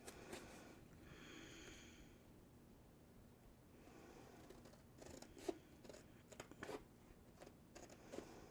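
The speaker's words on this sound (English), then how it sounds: "So then you can just use them like normal scissors." Scissors snip paper at a craft table with a brief rustle early on, then a series of short sharp cuts at irregular intervals in the second half, close and fairly quiet.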